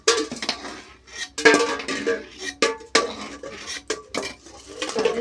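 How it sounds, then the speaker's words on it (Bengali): Boiled eggs lifted out of a pot, with irregular clinks and knocks of a spoon against metal cookware, close and bright. "ডিমগুলো সেদ্ধ হয়ে গিয়েছে তুলে নিচ্ছি"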